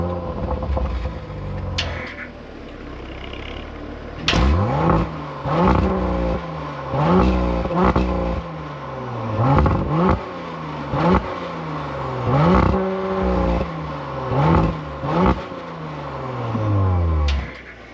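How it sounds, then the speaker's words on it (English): A 2024 Audi RS5 Sportback Competition engine fires up, then revs repeatedly in loud, close blips with rising and falling pitch, each burst settling back to a steady idle between pulls. "So let's go ahead and fire it up. You can hear how this engine sounds."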